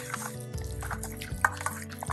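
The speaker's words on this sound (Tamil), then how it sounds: "இதில் கொஞ்சம் நிறைய எண்ணெய் ஊற்றிடுவோம்." Cooking oil pours onto marinated mutton in a home kitchen, a soft close trickle with small drips and splashes, quiet and alone.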